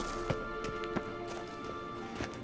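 Horse hooves clip-clop at a walk in The Witcher 3 video game, a few soft irregular knocks under a steady droning game soundscape, fairly quiet and without a clear neigh.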